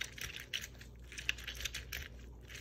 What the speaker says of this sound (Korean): 레몬즙을 짜겠습니다